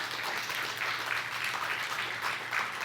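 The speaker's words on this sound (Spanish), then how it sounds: "Eso merece un aplauso," Church congregation applauding during a Good Friday service, a steady, slightly distant wash of clapping that holds even throughout.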